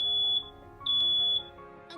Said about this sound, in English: their moment is interrupted by the smoke alarm going off